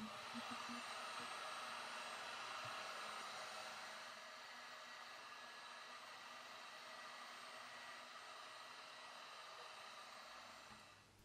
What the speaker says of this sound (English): Each PCB is reflown by heating it up from the underside using my hot air gun.